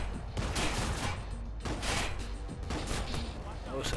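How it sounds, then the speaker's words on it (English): Shotgun fire in Watch Dogs comes as a few heavy booming blasts spaced about a second apart under a constant rumble, moderately distant and muffled. "How can a shotgun have that kind of range?"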